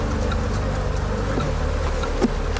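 Steady droning buzz of many Africanized honeybees, continuous and fairly close, with a few individual insects passing louder near the end.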